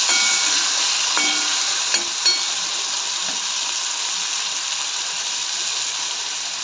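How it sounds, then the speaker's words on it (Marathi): Chopped onions stir-fry in a pan for kande pohe, producing a loud, continuous, hissing sizzle up close, with only a couple of faint clicks from the spatula and no speech. "आता याच्यामध्ये आपण कांदा टाकूया हे सर्व व्यवस्थित मऊ होईपर्यंत परतून घ्यायचं"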